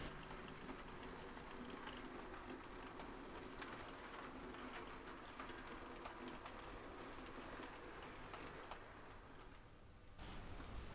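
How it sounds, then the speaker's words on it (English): A 00 gauge model Southern Region local stopping train pulls away from a layout platform, a quiet steady rolling rumble with faint ticking clatter that cuts off near the end. "The local stopping service is now clear to continue and departs platform 3 on its way to Guildford."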